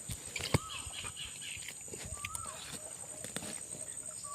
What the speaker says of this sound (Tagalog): Kahit saan ka magpunta tol, nandyan talaga yung kabay ni Bayawak.